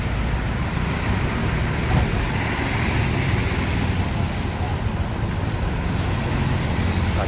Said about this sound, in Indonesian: pintu udah ditutup, bus diberangkatkan.